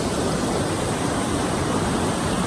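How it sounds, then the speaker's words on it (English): Steady, dense roar of falling water heard from right on top of a waterfall along the Franklin waterfall trail, loud and unbroken throughout with no voices. "There's the waterfall. We're right on top of it."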